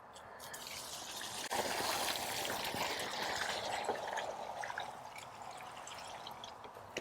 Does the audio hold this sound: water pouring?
yes